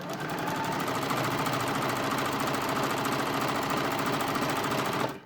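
A sewing machine stitches fleece in a fast, even rapid-fire chatter, steady and close throughout, then stops abruptly at the end.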